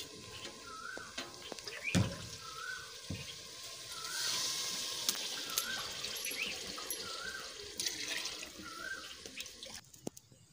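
Water poured into a cooking pot of tempered spices before adding rice, a steady splashing and running flow over faint kitchen background, continuing for several seconds.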